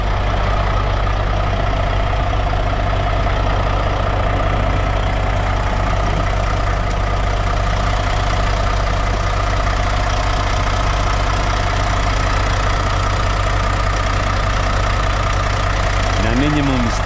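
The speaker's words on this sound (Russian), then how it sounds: "Видите, мотор Cummins." A steady, low Cummins diesel truck engine idles close by, rumbling evenly throughout with a faint higher whine over it.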